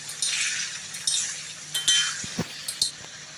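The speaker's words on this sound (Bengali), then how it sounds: "এটা দিয়েও এবার নাড়িয়ে নেব ভালো করে।" A utensil clinks and scrapes against a pan as chicken marinade gravy is stirred, with several sharp metallic taps over a faint sizzle.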